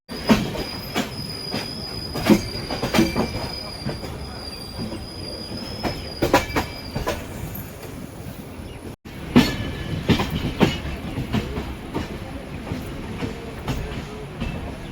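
A train nearing Panvel station rolls along the rails with rhythmic clatter, metallic clanks and occasional high wheel squeals, loud and continuous from inside a sleeper coach.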